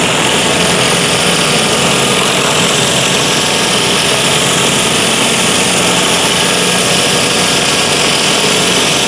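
A high-pressure surface cleaner runs steadily up close, its engine giving a loud, constant high-pitched drone with a broad hiss of spraying water, unbroken for the full stretch.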